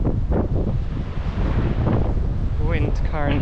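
Wind blows hard along the coast, buffeting the microphone with a loud, constant rumble and gusts. Surf may be mixed in, and a few faint voice-like sounds rise near the end.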